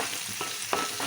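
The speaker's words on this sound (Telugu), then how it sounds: "మూత ఓపెన్ చేసి మళ్ళీ ఒకసారి కలుపుకుందాం" Gongura tomato curry frying in a pan while being stirred, a brief close sizzle with a few spoon scrapes and clinks, no voices.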